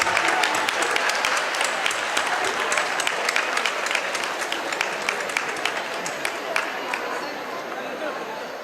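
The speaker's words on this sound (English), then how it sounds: "Can we have a big round of applause once again, please?" A big round of audience applause at a management institute event, dense continuous clapping from a large crowd that holds steady and gradually thins toward the end, with some crowd chatter mixed in.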